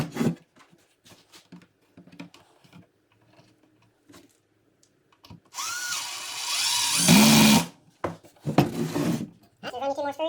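A power driver sinks 2-inch Torx-head screws into wood while building a farmhouse end table, one long whirring run of several seconds between stretches of quiet handling and talk.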